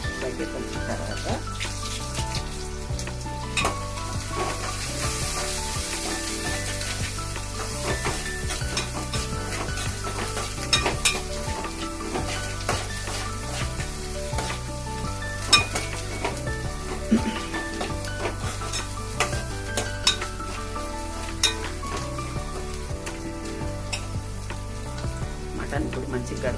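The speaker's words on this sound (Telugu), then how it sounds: "దంచింది కూడా దీంట్లో వేసేసి బాగా కలుపుకోవాలి" Mutton tomato curry being stirred in a sizzling pan, with continuous frying hiss and repeated scraping of a utensil against the pan throughout, loud and close.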